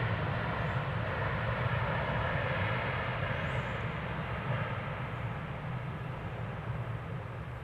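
A jet airliner landing on runway 36 Left at Dallas Fort Worth Airport gives a steady, loud, broadband engine roar that holds level throughout with no pauses.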